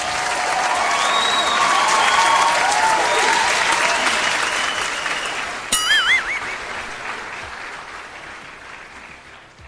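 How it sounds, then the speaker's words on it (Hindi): An audience at a comedy game-show parody set breaks into loud, sustained applause welcoming the chief guest, a dense wash of clapping that swells and slowly fades, with a brief electronic jingle near the end. "तो चलिए जोरदार तालियों से"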